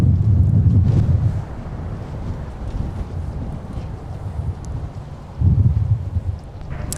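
Gusty wind at MSP airport during plane spotting buffets the microphone in loud low rumbling bursts that ease and return, with no voices.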